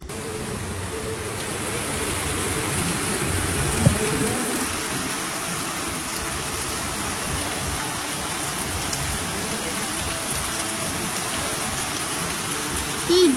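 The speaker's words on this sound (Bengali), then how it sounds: "কি জোরে বৃষ্টি নেমেছে দেখো, মনে হচ্ছে আকাশ ভেঙে এসেছে।" Heavy rain pours down steadily in a dense, unbroken hiss on a stormy day, loud and continuous throughout, with a couple of faint knocks near the start and end.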